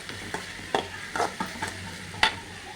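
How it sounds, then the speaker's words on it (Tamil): Green chillies for chicken cutlets sauté lightly in a pan, a soft sizzle under repeated spoon scrapes and stirs coming every fraction of a second, close and fairly quiet. "கொஞ்சம் லைட்டாக கொஞ்சம் வதக்கினா போதும்"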